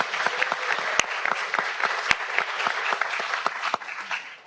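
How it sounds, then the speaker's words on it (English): Audience applause at a moot court competition final round, steady dense clapping with a few sharp louder claps standing out, filling the room from start to finish with no talking. "So, big round of applause for them."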